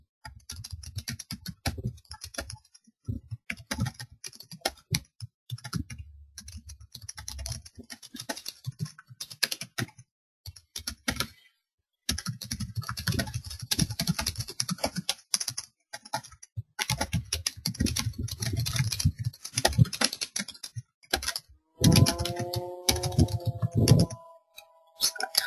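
Steady bursts of typing on a computer keyboard as a forum message is written, quick irregular clicks running throughout with brief pauses, close and clear, with a short tonal beep near the end.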